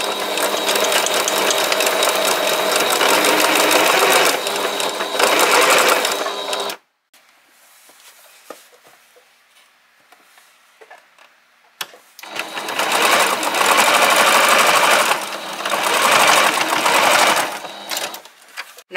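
A sewing machine fitted with a gathering foot stitches fabric in two loud, rapid whirring runs separated by a quiet pause with faint handling noises, close and without talk.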